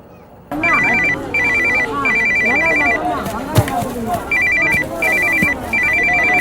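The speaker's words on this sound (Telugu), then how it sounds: "అమ్మ ఫోన్ చేస్తుంటే తీవేంట్రా?" In a film scene, a mobile phone rings loudly in repeated electronic bursts with short pauses, left unanswered, while voices and other sound run underneath.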